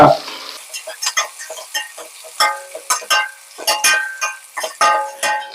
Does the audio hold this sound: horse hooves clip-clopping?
no